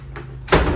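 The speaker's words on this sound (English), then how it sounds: "Can you close the door, please?" A door swings shut indoors during a package unboxing, ending in a single short solid thud that follows a moment of quiet room noise.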